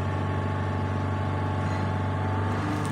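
A Toyota 1GR V6 engine holds a steady 3000 RPM, giving a loud, even, close-up drone with a strong low hum and no voices.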